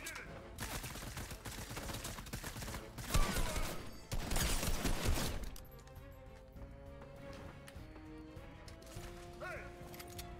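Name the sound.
gunfire from a bot in a video game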